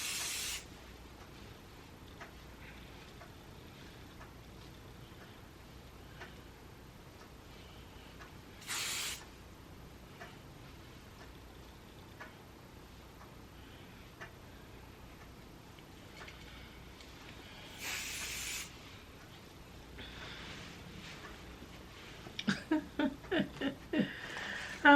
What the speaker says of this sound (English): A little bit of this hairspray in my hands and just work it through like that.